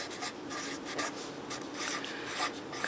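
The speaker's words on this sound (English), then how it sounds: "Now I do write on it which apron it is for" Pen writing on a fabric apron pocket, a steady close scratching of strokes with short pauses between them, heard alone.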